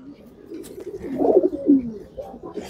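Racing pigeon from a Narayanganj championship tournament loft, a mother bird, cooing in low throaty bursts at close range, rising in the middle of the stretch over faint background noise.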